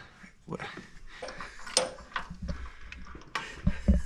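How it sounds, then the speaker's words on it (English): A few short, sharp squeaks from a rubber dog toy pressed underfoot, close by, amid scattered clatter and shuffling during a spark plug change on a Lamborghini Huracan. "Oh, stepped on the old dog toy."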